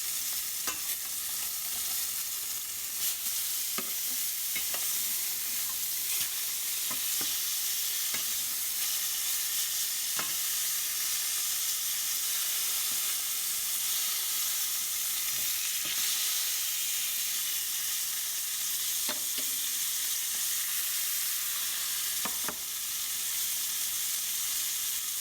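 Pork chops fry in a pan after being flipped, giving a steady, bright sizzling hiss that runs continuously at close range, dotted with occasional small pops and crackles, with no voices.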